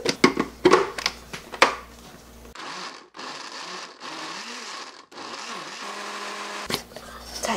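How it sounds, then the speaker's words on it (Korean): A kitchen blender whirs in several sustained bursts of a few seconds each as it purees boiled, softened balloonflower (doraji) root with its cooking liquid, after some brief clattering and handling sounds at the start. "조금 식혀서 믹서기에 돌릴게요"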